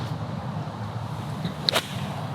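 A single sharp golf club strike on the ball during a lesson, one crisp crack midway through against a quiet outdoor background.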